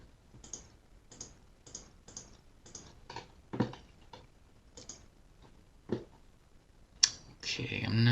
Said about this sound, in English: now you can see what I'm typing in to the still screenshot